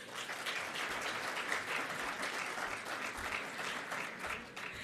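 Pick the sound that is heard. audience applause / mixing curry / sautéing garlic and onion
audience applause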